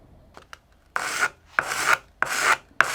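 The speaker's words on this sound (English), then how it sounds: "I sanded off the protruding parts and removed the little dotted areas" Protruding bits on a 3D-printed cloud ceiling lamp are sanded down in four steady, even back-and-forth rasping strokes, close and fairly loud, with a couple of faint taps before the first stroke.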